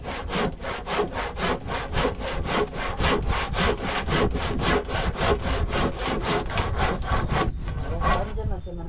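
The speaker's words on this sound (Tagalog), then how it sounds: "Dali mo kaya itong lagari, pahasa mo." Hand saw cutting through wood in fast, steady back-and-forth strokes, close and loud, keeping an even rhythm for most of the stretch before a brief rougher change near the end.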